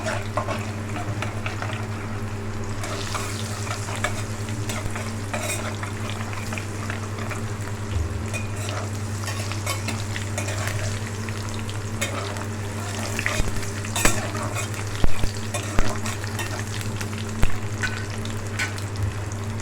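Garlic frying in a pan for a Chettinad garlic curry, a steady loud sizzle and bubbling with a low hum beneath, joined later by a few sharp scraping stirs, close by with no speech.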